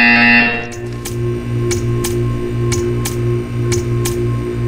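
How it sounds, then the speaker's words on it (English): A steady electronic buzzer in Portal 2 pulses in a regular repeating pattern over a low droning hum, with periodic sharp high clicks or ticks. "When you hear the buzzer, stare at the art."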